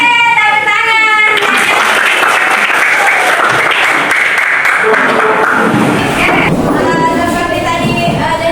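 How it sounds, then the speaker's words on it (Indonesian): A class of children claps hands together in a long, dense burst of loud applause, with voices of kids and an adult speaking at the start and end. "Oke, tepuk tangan."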